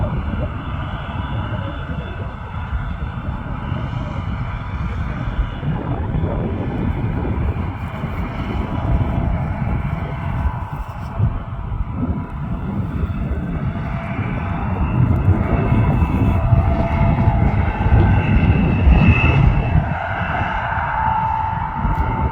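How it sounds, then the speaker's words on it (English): Hay mower running in a field, a steady low mechanical drone with wind buffeting the microphone, swelling slightly louder as the machine passes nearer. "the mower is on Arnie's left-hand side"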